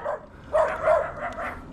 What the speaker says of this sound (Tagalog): Dami aso rito ah.